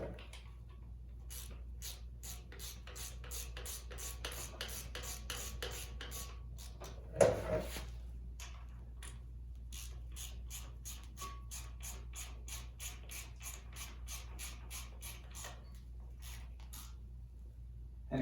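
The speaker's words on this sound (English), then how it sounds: "And you just run these bolts in." Bolts being run in by hand on a fuel pump on a 350 small-block Chevy engine, heard as a close, quiet series of rapid ratchet clicks in steady bursts over a low background hum, with one brief louder clunk partway through.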